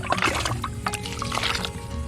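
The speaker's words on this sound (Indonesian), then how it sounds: "Terlebih dahulu kita siram" Water is poured over a pandan plant set in a polybag, a steady close splashing and trickling that runs without pause for about two seconds.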